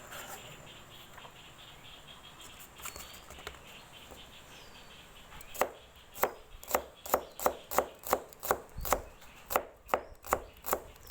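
Knife chopping on a board, first a few scattered cuts over quiet background, then a fast steady run of sharp evenly spaced chops, close by.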